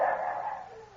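Hounds bay in a single drawn-out bark that trails away over about a second, fairly close and with no talk over it.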